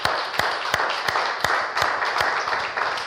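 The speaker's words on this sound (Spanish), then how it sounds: "Dele un aplauso al Señor." A church congregation claps together in a steady, evenly spaced rhythm, sharp beats about three per second standing out over a dense murmur of scattered clapping and room noise.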